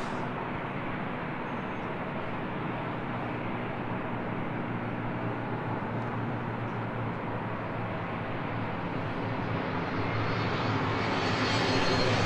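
A jet airliner landing on runway 24 left at LAX, a steady broad engine roar that holds evenly and swells slightly toward the end, heard alone without talk.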